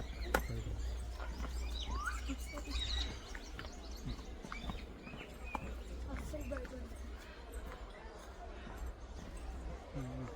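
Parrots chirp and squawk in a noisy mix at an eco park aviary, with people talking nearby and scattered background clatter.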